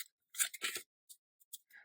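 Tarot cards are shuffled by hand in short, crisp bursts of riffling and sliding, close and quiet, with small gaps between the handfuls and no talking.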